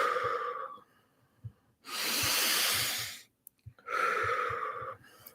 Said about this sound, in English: If you want energy, reverse it and inhale on the count of 4